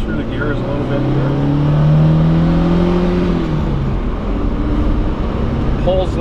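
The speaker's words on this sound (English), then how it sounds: "Go through the gears a little bit here." Engine of a 1967 Alfa Romeo Spider Duetto heard from inside the car as it accelerates through the gears, with the tone rising, then dropping at a shift and steadying, loud and continuous, while someone talks over it.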